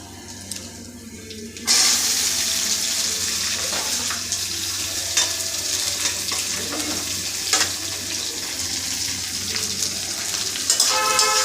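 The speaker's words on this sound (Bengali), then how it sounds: "পেঁয়াজগুলোকে লাল লাল করে ভেজে নেব ভালো করে" Chopped onions frying in oil in a pan for a chicken dish, a loud continuous sizzle that bursts in after a quieter start, with occasional stirring scrapes and clatters, close and steady.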